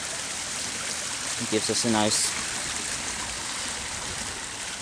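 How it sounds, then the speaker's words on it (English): Creek water spills over a small built waterfall dam in a steady rushing wash, with a brief spoken phrase over it partway through. "So there's a view of the creek. That's a little waterfall dam that we built"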